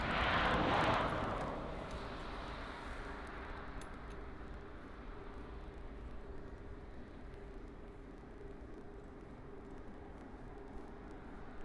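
A Swiss Airbus A220-300 arriving from Zurich at Paris CDG airport gives a faint, distant jet roar that swells briefly at the start, then settles into a steady low rumble.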